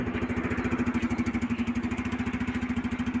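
A small Yamaha Mio automatic scooter engine runs close by with a fast, even putter and a rhythmic pulsing drone, no voices.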